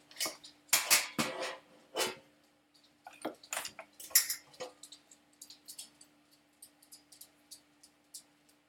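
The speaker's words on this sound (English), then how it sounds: "now let me get my cookie sheet ready." A metal cookie sheet is set down and handled on a table, giving loud clattering bangs and scrapes at first, then a run of lighter clinks and taps spaced out over several seconds.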